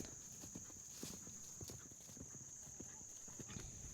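A Mustang's hooves beat in a quick rhythmic clip-clop as it canters on soft ground during a training session. The hoofbeats are fairly faint over a steady background hiss.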